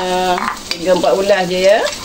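Garlic sizzles and is stirred in a hot pan while fried kuetiau is cooked for breakfast. Someone speaks over the steady frying noise.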